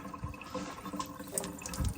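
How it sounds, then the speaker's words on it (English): Water runs steadily from a bathroom sink faucet after a shut-off valve repair. It makes a faint, continuous splashing hiss with no voices. "Now I've got the water running."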